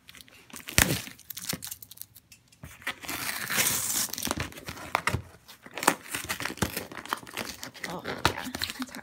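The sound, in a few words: opening crinkly plastic package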